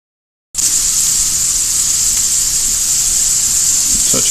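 Vegetables sauteing in a pan for chicken and vegetable soup, a loud bright hiss of steam and sizzle that bursts in after a moment of silence and holds steady, close to the pan.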